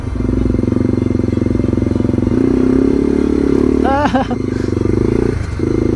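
A Yamaha TW200 motorcycle engine idles and revs steadily while the rider tries to get moving in snow in a forest, a loud, close, continuous rumble with a short throttle blip near the end.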